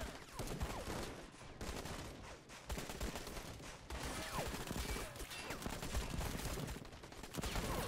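Rapid video-game gunfire from Call to Arms, bursts of automatic weapons and scattered shots crackling continuously across the whole stretch at moderate level, without speech.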